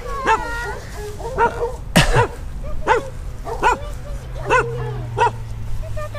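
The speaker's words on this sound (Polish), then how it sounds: "Piesek nas zaatakował." A dog barks repeatedly at night at a campsite in Spain, a string of sharp, evenly spaced barks fairly close by, with a steady low hum underneath.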